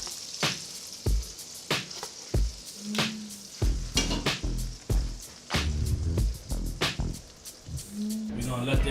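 T-bone steak sizzling and frying in a pan, a steady crackle with sharp pops and scraping stir sounds, loud and close, with a few short bursts of background noise.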